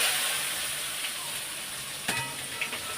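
Potatoes frying in hot oil in a pan, with a steady close sizzle throughout and a few brief scraping stirs near the end.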